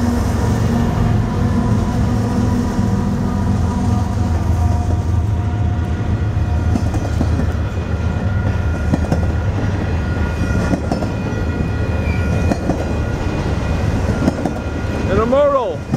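A Union Pacific intermodal freight train rolls past with a loud, continuous low rumble and clatter of wagons, plus brief squealing metal tones near the end.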